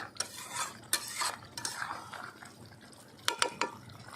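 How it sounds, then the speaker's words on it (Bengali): Spicy stingray curry with garam masala is stirred in a pot, with several distinct wet scraping strokes of a spoon against the pan coming in short bursts, close and moderately loud, with no voices. "আমি দিয়ে দেবো গরম মশলা ভালো করে নাড়িয়ে নিচ্ছি"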